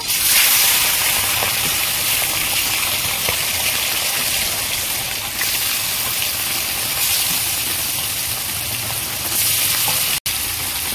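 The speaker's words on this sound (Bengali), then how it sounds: "এবার আমি মাছগুলো ভেজে নেব।" Catla fish fry in mustard oil in a wok with a loud, steady hiss that holds nearly unbroken for the whole stretch, with only a brief dip near the end.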